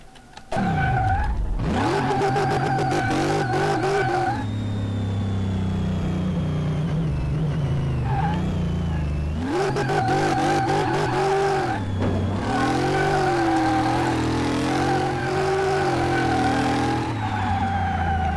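A car engine in a mechanic simulator video game revs hard in long rising and falling sweeps, with tire squeal and skidding, loud and close, broken by a short quieter gap.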